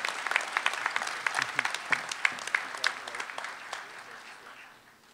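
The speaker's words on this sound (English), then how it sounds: "Please give him a round of applause." Applause from a university commencement audience, a patter of claps that fades gradually away over a few seconds.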